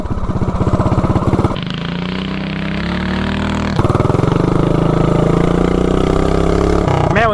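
A vehicle with a big block 420 engine and a 30 series torque converter roars hard during a wheelie, loud and close, revving in sustained pulls that drop off briefly and then climb again.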